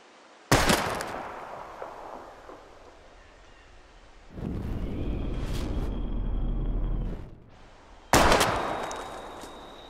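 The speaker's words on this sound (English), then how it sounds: "We're gonna shoot all these bottles without wasting a single bullet." Gunshots fired at bottles in the video game Life is Strange: a sharp loud blast, then a rumbling stretch, then another loud shot with a ringing tail, with quieter gaps between.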